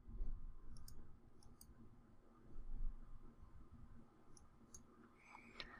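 Faint, crisp mouse clicks while working through menus in Excel on a computer, a few scattered pairs of sharp taps over quiet room noise.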